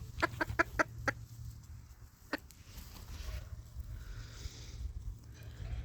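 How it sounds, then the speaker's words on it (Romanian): Young cockerels cluck in a short burst of sharp calls, then a single call follows, over steady farmyard hum and a faint background. "Deci așa arată cocoșei."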